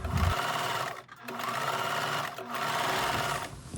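Sewing machine stitching a stand-collar shirt dress, its rapid mechanical whir running continuously close up with a couple of brief dips in speed.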